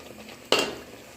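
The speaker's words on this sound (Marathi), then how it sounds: "हे बघा, आता मस्त मसाला फ्राय झालेला आहे पूर्ण." Dry spices hit a hot pan of paneer masala with one sudden sizzling burst that quickly settles into a softer, steady fry, close and fairly loud, with no talking.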